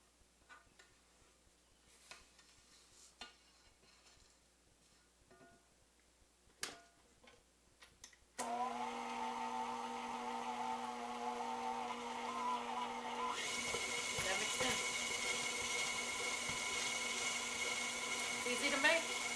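An electric hand mixer starts abruptly and whirs steadily as it blends flour into cookie dough in a bowl, louder and higher-pitched in its second half as the speed rises, after soft clinks and kitchen handling sounds.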